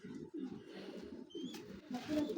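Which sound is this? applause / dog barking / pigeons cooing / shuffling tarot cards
pigeons cooing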